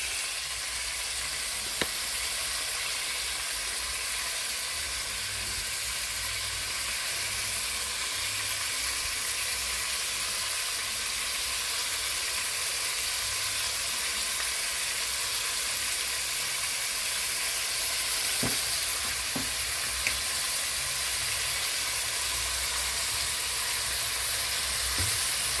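Pork sizzles steadily in a pan during a Kenyan-style wet fry, a continuous close hiss with a few faint clicks and pops over the whole stretch.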